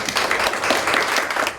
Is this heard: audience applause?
yes